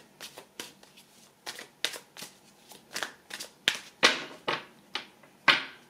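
Tarot cards shuffled by hand close up, making a rapid series of crisp riffling and snapping bursts in an uneven rhythm, alone in a quiet room.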